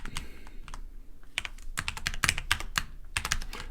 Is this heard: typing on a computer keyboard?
yes